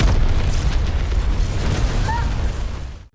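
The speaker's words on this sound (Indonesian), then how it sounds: "Tanku nekat meledakkan diri bersama para anak buah Josefo" A loud grenade blast in an action film about a mafia pursuit, a dense broadband roar that rumbles steadily for about three seconds before cutting off abruptly.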